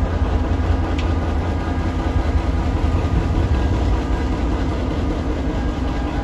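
A train rolls steadily over newly laid tracks of the Tren Maya line in southern Mexico, a loud, continuous rumble of heavy wagons with faint clicking, close by and without speech.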